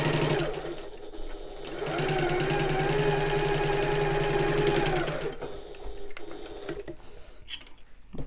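A sewing machine back stitching the corner of a shoulder bag runs as a fast, even mechanical whir for several seconds, then stops, leaving quieter handling sounds.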